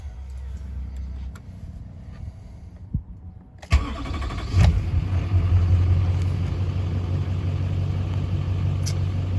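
A 2005 Chevy Silverado 2500HD Duramax diesel pickup engine cranks and catches with a sharp start, then settles into a steady, rumbling idle up close.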